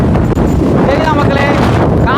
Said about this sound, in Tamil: காற்று செமையாக அடிச்சுட்டு